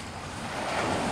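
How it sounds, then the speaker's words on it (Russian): Surf rolls in on Surin Beach in north Phuket, a broad continuous wash of waves that swells slightly toward the end, with wind buffeting the microphone. "И приехали на пляж Сурин."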